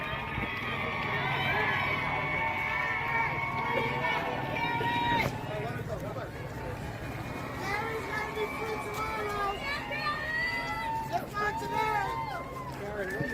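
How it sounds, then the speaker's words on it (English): A crowd gathers outside a courthouse during the verdict watch for the Karen Read trial. Overlapping voices, shouts and children's chatter make a lively, close hubbub throughout. "It's so crazy, just the crowds that it drew."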